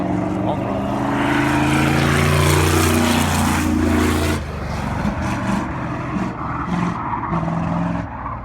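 A rented race car's engine on throttle, a loud sustained tone with rising harmonics that holds for about four seconds, then drops to a rougher, quieter drone.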